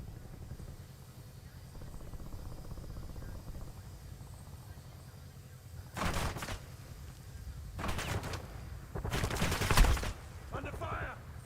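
Bursts of automatic gunfire in Call of Duty Warzone ring out in three short volleys over a low, steady background hum, moderately loud and close, with no talking.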